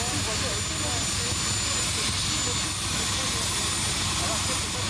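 An aircraft engine roars steadily at a 1993 air show at Cambrai air base 103, a loud, unbroken drone with a voice partly audible beneath it.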